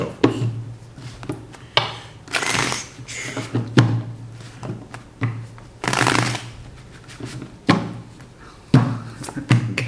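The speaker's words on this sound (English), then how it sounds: "Let's get two more shuffles." Tarot cards are shuffled repeatedly in quick riffling bursts with soft taps between them, close up.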